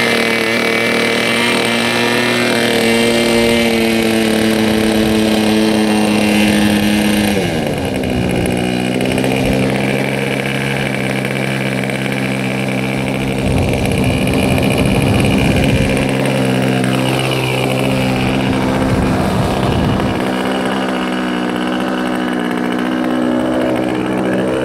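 A Sig Smith Miniplane model airplane engine runs steadily at high revs, a buzzing whine with strong harmonics that shifts pitch a few times as the throttle changes, loud and close.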